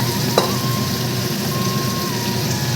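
Chopped onions fry in a pan for a yogurt chicken curry, giving a steady, continuous close sizzle with no talking.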